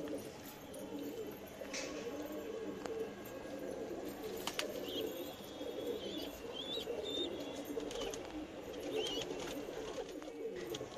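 Pigeons coo and chirp softly among adults and young while feeding chicks, with a steady low murmur of bird sounds, a few brief higher calls and occasional faint clicks throughout.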